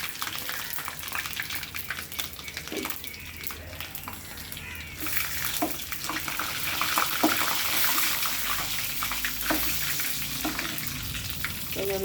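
Cumin seeds and dried red chillies frying in oil in a pan, a soft, continuous sizzle and crackle with occasional stirring clinks, fairly faint throughout.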